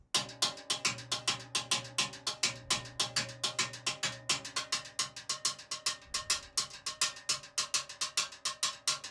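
Cascara rhythm played with the side of a stick on a timbale shell, a fast, steady run of bright, ringing metallic clacks with syncopated accents, close and loud and continuing for several seconds with no voices.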